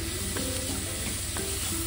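Oncom and petai stir-frying fairly dry in a pan: a steady close sizzle with repeated scraping and stirring strokes, no voices.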